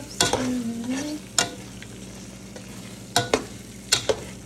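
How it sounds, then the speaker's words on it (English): Paneer is stirred into palak sauce in a pan, with a few distinct spoon scrapes and knocks against the pan over a quiet background sizzle. "And let's stir it up, stir it up, stir it up."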